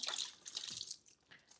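Tap water runs briefly over fresh scallions in a kitchen sink, a short soft splashing and trickling that fades within a second or two, with no voices.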